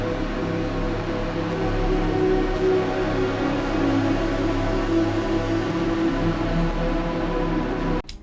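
A synthetic analog sound sample drones steadily with a layered, chant-like hum, dense and even for about eight seconds before cutting off abruptly.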